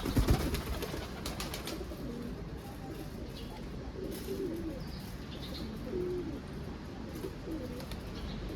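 Soft cooing of pigeons over a steady low outdoor murmur, with a few faint chirps scattered throughout; young pigeons among the flock.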